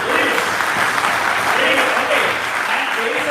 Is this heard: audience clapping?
yes